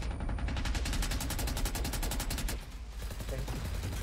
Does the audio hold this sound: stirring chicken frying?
no